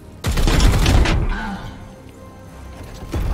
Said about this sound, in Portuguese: Aí vai dar o disparo de apoio.